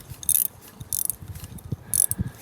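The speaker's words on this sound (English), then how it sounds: "Ooh, we can get the socket on here." Socket ratchet clicking on the V8 engine of a 1958 Dodge Power Wagon 4x4 truck, in three short bursts of rapid pawl clicks close to the listener, with quiet knocks between them and no voices.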